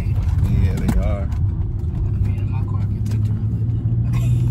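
Cadillac car driving over a rough, bumpy downtown road, heard from inside as a steady low engine and road rumble throughout, with people talking over it.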